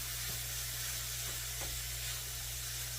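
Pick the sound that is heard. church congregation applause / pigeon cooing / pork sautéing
pork sautéing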